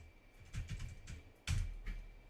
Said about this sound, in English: Trying to type on the second keyboard.